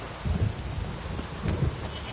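Rain pours steadily in The Witcher 3 while deep thunder rumbles roll in twice, once near the start and again toward the end, over the constant hiss of the downpour.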